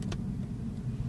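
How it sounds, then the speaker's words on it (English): Lexus CT200h hybrid's engine idling just after starting, a steady low rumbling hum heard from inside the car, with a brief tick near the start. "because we've just started and the engine is running."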